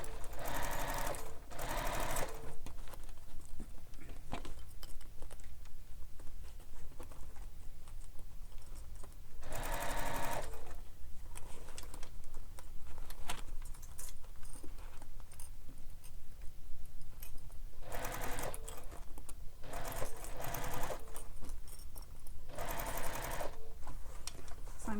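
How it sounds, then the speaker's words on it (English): A sewing machine stitches along the curved seam of a bag, running in several loud bursts of rapid whirring with quieter pauses between them, close and alone without talk. "I'm sewing along and I'm coming up to where I need to stop."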